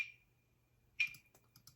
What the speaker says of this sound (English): What would any good trap, aggressive beat be without a good crunchy clap?